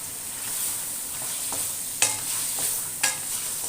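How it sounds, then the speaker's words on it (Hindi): Radish and spinach frying in ghee in a pan, a steady soft sizzle with a few sharp stirring scrapes or clinks standing out, close by and moderately loud, with no talking. "इसे 4 से 5 मिनट हमने इसे घी के अंदर भूनना"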